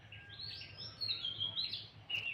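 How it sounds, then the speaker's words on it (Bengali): Birds chirp in a rural turmeric field, giving a bright, busy run of overlapping tweets and calls, moderately close and continuous, with a low hum of background noise and no talking. "সাথে পাখির ডাক"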